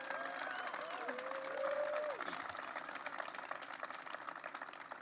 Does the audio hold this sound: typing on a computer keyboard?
no